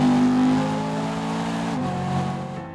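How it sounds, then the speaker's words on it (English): A 2011 BMW M3 Competition Package's V8 revs hard, loud and close, its engine note holding a steady high drone and then dipping slightly before climbing again, with no voices over it. "there is one good reason for keeping this V8. It's the sound it makes when you do this."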